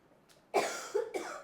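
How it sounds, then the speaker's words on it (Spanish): A woman coughs two or three times in quick succession, close and fairly loud, after a brief quiet moment. "Ella está tosiendo."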